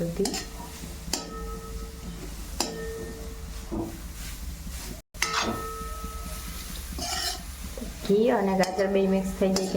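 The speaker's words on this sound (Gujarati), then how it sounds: "હવે આપણે એને સરખી રીતે આવી રીતે મિક્સ કરી લેશું।" Grated carrots stirred in ghee in a pan for gajar halwa, with a series of scraping strokes and light clinks of a spoon against metal. A voice briefly rises near the end.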